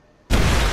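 A sudden loud explosion from the video game XCOM Chimera Squad, bursting in after a quiet moment into a sustained, full-band roar.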